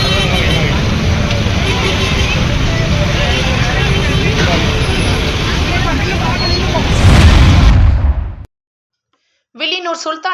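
Firecrackers burst in a dense crackling barrage at a street victory celebration near Indira Gandhi Square, loud amid crowd noise and traffic. A voice talks over the din, then the sound cuts off.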